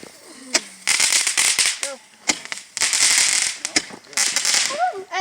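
Fireworks crackle and pop loudly in close, repeated bursts of sizzling firecracker-like bangs set off outdoors at New Year, with short whistling tones and people talking in between.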